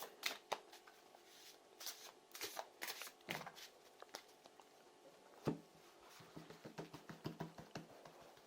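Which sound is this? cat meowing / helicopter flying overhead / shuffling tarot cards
shuffling tarot cards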